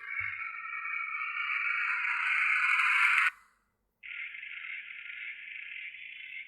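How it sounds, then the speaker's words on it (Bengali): Crickets chirp at night in quiet surroundings, a dense high trill that runs steadily, breaks off for under a second, then resumes alone at the same level. "ঝিঝি পোকার শব্দে"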